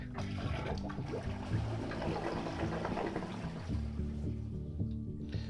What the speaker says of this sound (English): and I'm going to drain the tank